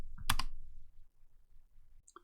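A few quick keystrokes on a laptop keyboard while entering a parts search for a Dell Inspiron 3515 lid, a short cluster of clicks up close, then quiet and two faint taps.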